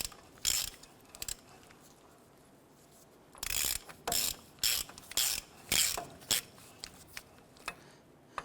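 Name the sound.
ratchet with 27mm socket tightening wheel bearing nut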